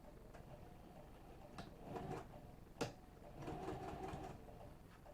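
A sewing machine stitches a seam on a business bag at a 3/8 inch seam allowance, heard as quiet, intermittent mechanical runs with a few small clicks and knocks, alone without talk.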